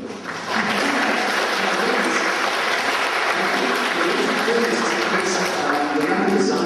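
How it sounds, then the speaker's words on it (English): Applause from the audience at an anime convention manga talk, a steady, dense wash of clapping that swells in after a brief start and holds loud and unbroken throughout. "if you want to give him a round of applause"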